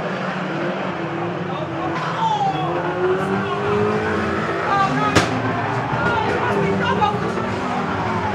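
Banger racing cars at Mildenhall's National Banger British Final on the last lap, a dense, continuous roar of several engines revving hard at close range, with a sharp bang partway through and a commentator speaking over the noise.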